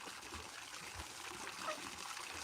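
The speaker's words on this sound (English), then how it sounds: "I am just topping up the water." Water poured to top up a container on an allotment, a steady faint trickle and dribble running throughout, quiet and continuous with no talk.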